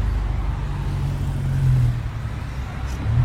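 Close, loud engine roar from a 400-horsepower VW Polo accelerating hard as its tyres spin, a dense low rumble that swells and holds steady for a few seconds.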